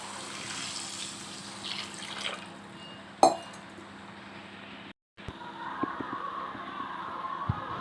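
Water poured from a small vessel into a cooking pot for noodles, a soft continuous liquid trickle with a sharp clink partway and brief drips after a short gap, close and moderately quiet with no talk.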